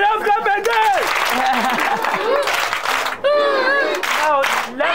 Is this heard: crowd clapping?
yes